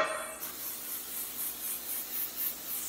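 Cooking spray being sprayed into a cake pan, a close, steady hissing spray pulsing in several short bursts throughout.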